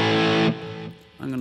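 Electric guitar played through a distortion effect while dialing in tone, thick sustained chords ringing loud for half a second, then a quieter, thinner passage before the strummed distortion swells back in.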